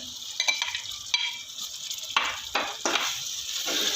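Tomatoes sizzle in a pan with mashed green chilli paste for chicken biryani, and a spoon stirs and scrapes in repeated strokes over steady frying hiss.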